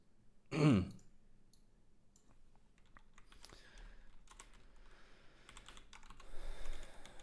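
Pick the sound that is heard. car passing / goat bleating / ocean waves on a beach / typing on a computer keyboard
typing on a computer keyboard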